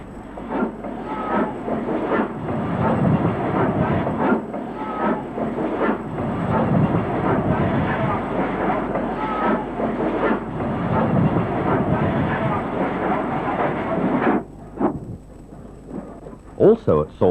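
LMS Jubilee steam locomotive 45557 New Brunswick at Saltley, Birmingham, on the Midland region rumbles and chuffs loudly and continuously, then drops away abruptly into a quieter tail with a few sharp knocks.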